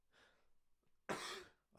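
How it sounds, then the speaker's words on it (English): A person with a cold coughs once sharply and close, a loud burst after some softer breathy throat noises, with no talking. "apologies if I'm coughing and spluttering everywhere"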